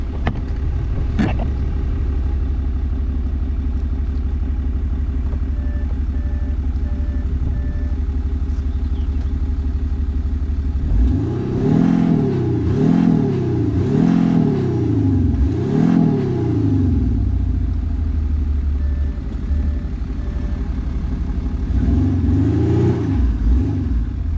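An Audi A6 C7 3.0 BiTDI diesel with active exhaust idles with a deep steady rumble while stationary, then revs up several times in rising and falling surges before settling back, with another rev near the end.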